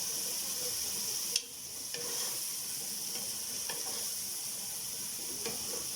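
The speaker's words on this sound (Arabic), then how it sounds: "بحمر البصله كويس جدا، يعني ولا متحمره قوي ولا شفافه قوي كده" Onions frying in a pan for an Egyptian tomato spaghetti sauce with minced meat, a steady close sizzle broken by occasional light scrapes and clicks of stirring.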